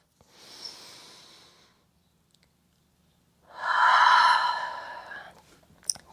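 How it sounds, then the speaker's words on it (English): Two deep breaths during a yoga class: a soft, airy inhale-like breath, a pause, then a louder, fuller exhale with a rushing hiss, close and alone with no talking. "Big round of breath."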